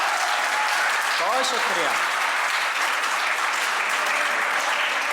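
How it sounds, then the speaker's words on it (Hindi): Applause fills a college poetry event hall in Varanasi, a dense, steady roar of clapping from a large audience that runs the whole time, with someone briefly speaking over it. "पिता के लिए पिता वाली तालियां चाहिए ना"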